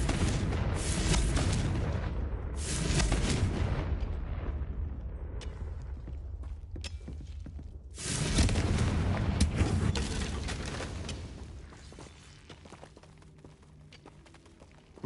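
Heavy booming blasts from Confringo fire spells in Hogwarts Legacy, two loud bursts a few seconds apart with long rumbling decays trailing off, no talk.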